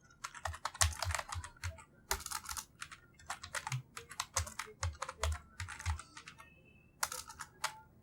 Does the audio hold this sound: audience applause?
no